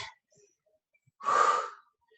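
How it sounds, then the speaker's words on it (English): A single heavy, breathy exhale of effort during a total-body workout, close to the mic, preceded by a faint breath and otherwise near silence. "you should be breathing like me through this"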